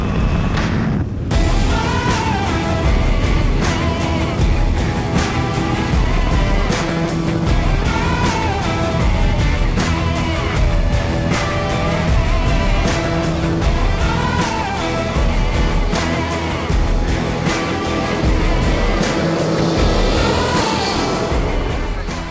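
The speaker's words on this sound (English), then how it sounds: "Jeremy Han reeled him in before they hit the narrow race channel" Jet boats racing at the 2019 World Jet Boat Championships, with a loud, continuous engine roar and whine filling the whole stretch, rising and falling as boats pass close through a narrow race channel.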